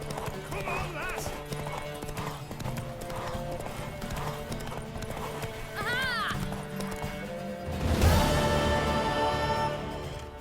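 Rhythmic hoofbeats of a galloping horse in the video game The Witcher 3 clatter steadily beneath music, with a horse whinny rising midway and a louder burst of action near the end.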